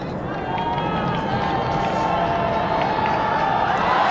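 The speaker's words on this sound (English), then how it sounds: "Huge roar from the crowd because that's the first maximum of the day" A large cricket crowd at a Nepal versus USA T20 match roars steadily after a six, a dense, sustained wall of cheering that swells slightly toward the end, with a commentator's voice underneath.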